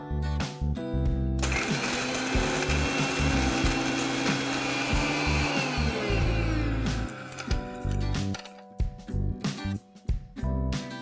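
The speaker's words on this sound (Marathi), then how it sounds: "हा गरम मसाला थंड झालेला आहे. ह्याची छान पूड करून घेऊया." Kitchen mixer grinder whirs loudly as cooled, roasted garam masala spices are ground into powder, a harsh rattling buzz running for several seconds before stopping, followed by scattered clinks and handling noises.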